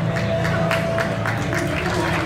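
Applause for a Maia Atlético Clube official at an athletics meeting award ceremony, a steady crowd clapping wash with a constant hum and some voices underneath.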